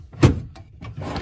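Closet drawers in a cruise ship cabin slide open and shut in a few quick wooden thuds and scrapes, close and fairly loud with no talk.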